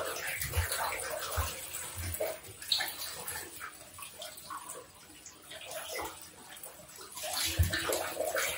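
Water splashes and trickles from a bucket over a dog standing in a bathtub during its first bath, a close, uneven wash of pours and drips with faint movement and occasional soft whimpers.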